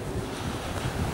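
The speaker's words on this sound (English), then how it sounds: "windy too" Steady wind blowing beside a river, a continuous low rushing roar with gusty swells and buffeting, no voices.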